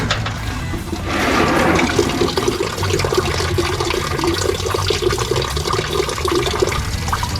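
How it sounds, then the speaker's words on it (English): Coolant pours and splashes steadily out of a Chrysler 318 V8 engine block, a continuous watery gush that holds at a fairly even level from start to finish, close by and with no talking. "Well, we're draining the blocks for sure."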